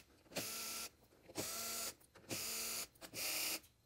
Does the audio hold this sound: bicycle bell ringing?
no